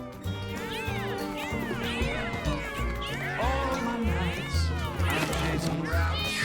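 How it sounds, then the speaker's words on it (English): A kitten in the video game Mewgenics meows again and again in short rising and falling cries. The meows sit over steady low game music, and a voice talks alongside them. "Alright, I think I see a kitten."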